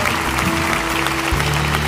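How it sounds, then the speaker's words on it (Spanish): A church congregation at a Christian preaching service applauds, a broad, loud clapping wash under a sustained low musical tone or hum, with a pitch shift in the background near the end. "A todos, denles un buen aplauso a ellos."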